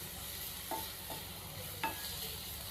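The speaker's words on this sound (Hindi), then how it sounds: "प्याज को शामिल करने के बाद हम प्याज को 2 से 3 मिनट के लिए फ्राई कर लेंगे" Onions frying in a pan for bread samosa filling, a quiet steady sizzle with three light spatula taps or scrapes spaced out across it, faint and close, nobody speaking.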